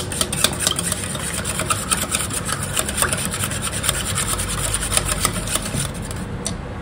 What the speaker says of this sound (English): Then, you gotta mix that in.